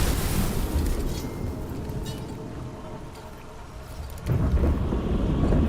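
A lightning attack in Warhammer 40,000: Mechanicus II crackles into a thunderous roar, loud at first, then easing into a softer rumble before a second heavy surge, with no talking.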